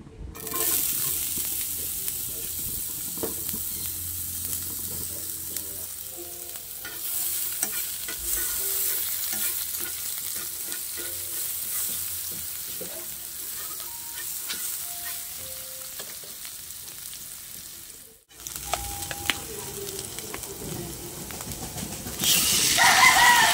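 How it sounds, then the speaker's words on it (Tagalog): Ground pork sautéing in a pan that was just used for frying hotdogs, with a continuous close sizzle and occasional stirring scrapes. The sizzle briefly cuts out, then comes back louder and brighter. "Sa pinaglutuan natin, igisa yung ating ground pork."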